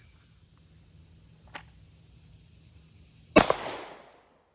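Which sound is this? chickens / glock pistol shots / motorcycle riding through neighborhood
glock pistol shots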